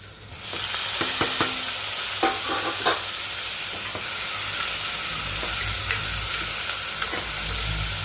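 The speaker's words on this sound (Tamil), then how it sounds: "பூண்டு நல்லா வதங்கி வச்சுப்பாங்க இப்போ தக்காளி ஆட் பண்ணிக்கலாம்" Garlic and tomato frying in a pan for a rice-and-lentil dish make a loud, continuous sizzle, with repeated scraping and knocking from stirring throughout.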